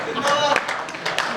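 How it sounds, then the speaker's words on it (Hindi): A handful of people in a poetry recital audience clap briefly, a few scattered, uneven claps close by over a murmuring room. "4-5 लोगों ने ताली बजाई,"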